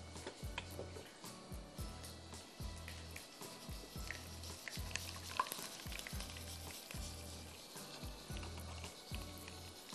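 Chopped ginger and garlic fry in a pan with a soft, steady sizzle and crackle, faint and continuous, accompanied by light rhythmic ticking or tapping and no voices.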